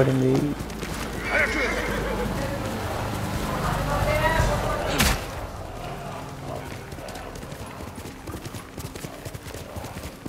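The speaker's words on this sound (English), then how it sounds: "Horse!" A horse whinnies loudly over trotting hoofbeats and a game-style music bed in Ghost of Tsushima, followed by a sharp burst and quieter, steady ambience.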